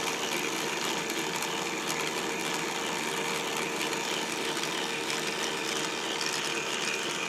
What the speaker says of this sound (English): Here's the motor part. That blue gear in there is spinning pretty fast.